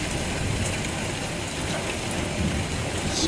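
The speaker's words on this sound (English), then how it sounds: "So finally, the storm caught us." Heavy rain pours steadily during a thunderstorm on the road in Queensland, a loud, dense wash of rainfall with a low rumble underneath, continuous and close, with no talking.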